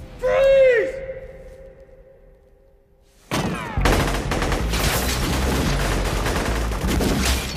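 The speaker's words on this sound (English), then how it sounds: "the standout slow-mo scene is Neo and Trinity's lobby shootout." Gunfire from the lobby shootout in the film The Matrix: after a brief rising tone and a few seconds of near quiet, loud, dense volleys of rapid shots erupt and keep going without pause to the end.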